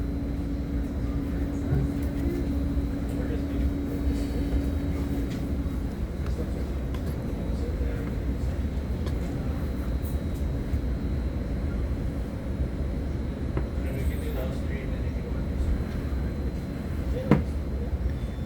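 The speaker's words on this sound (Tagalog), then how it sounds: "This is northbound local train 131 making all stops to San Francisco." Inside a Caltrain northbound local train 131, a steady low rumble and rolling drone continues throughout, with faint clicks and a brief tone, heard from within the carriage with muted background voices.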